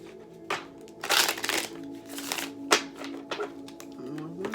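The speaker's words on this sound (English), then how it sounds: "More shuffle." A tarot deck is shuffled by hand close up, a few quick riffling bursts and soft card slaps separated by brief pauses, crisp and intimate with no talking.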